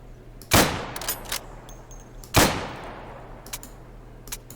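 Two single rifle shots ring out in Day of Infamy, a World War II shooter, each a sharp loud crack with a short decaying tail, roughly two seconds apart, followed by faint metallic clicks of handling over a low steady hum.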